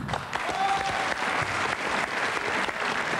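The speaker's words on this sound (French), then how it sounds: "Si on n'applaudit pas tout de suite monsieur Barthélélé, je quitte le plateau." A studio audience on a 1998 French television show breaks into sustained, even applause, dense and loud for the whole stretch with no pauses.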